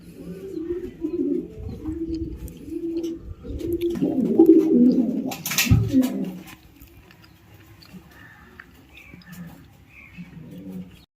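Racing pigeons coo in low, repeated rolling calls close by, with a brief rustle of wings in the middle and softer cooing after.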